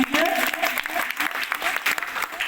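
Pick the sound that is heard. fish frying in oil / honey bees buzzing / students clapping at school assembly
students clapping at school assembly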